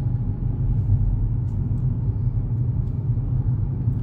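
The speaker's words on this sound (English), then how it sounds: "So we're just driving into Lincoln now." Car driving into Lincoln, a steady muffled low rumble of engine and road noise heard from inside the cabin, with no talking.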